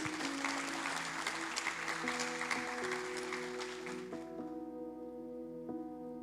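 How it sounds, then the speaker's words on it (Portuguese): Congregation clapping during a Portuguese-language youth church service, a dense wash of applause over sustained keyboard chords; the clapping stops partway through and the music carries on alone. "Vamos aplaudir Jesus por isso, querido."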